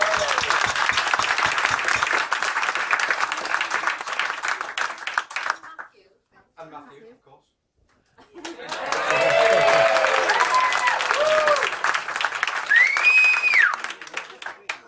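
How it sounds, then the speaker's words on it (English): Wedding guests break into a round of applause during a best man's speech, loud sustained clapping that fades to near silence before a second strong burst returns; someone speaks briefly over the clapping. "Like a round of applause."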